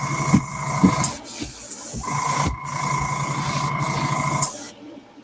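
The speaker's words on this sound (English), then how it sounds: "So this just gets sprayed over top of it again" An airbrush hisses in steady bursts of spraying paint for a rainbow trout pattern, with a constant motor hum underneath and brief pauses between passes.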